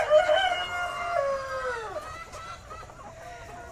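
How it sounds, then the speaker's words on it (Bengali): Native chickens at a poultry farm, with a rooster's drawn-out crow rising and falling near the start, followed by assorted clucks and calls from the flock, close and clear over a quiet background. "মুরগিগুলো দৌড়চ্ছে আমাদের দেখে। দেখো কত মুরগি।"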